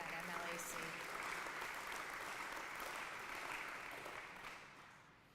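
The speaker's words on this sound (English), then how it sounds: "So another round of applause for the great staff at MLAC." A crowd at an electric cooperative's annual meeting applauds steadily, a dense wash of clapping that holds for several seconds before tapering off at the end.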